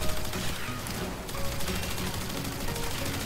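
Athodai pistol firing in the Warframe video game, a dense, continuous stream of rapid shots with a brief sharp burst near the middle, loud and steady throughout.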